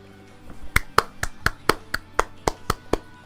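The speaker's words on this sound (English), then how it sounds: "I had to do the clapping sound effects." Hand claps as a game sound effect, about nine sharp claps in a steady, evenly spaced rhythm, close and clear over a faint background.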